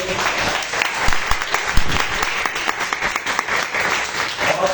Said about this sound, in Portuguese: Dá mais uma linda salva de palmas para Jesus.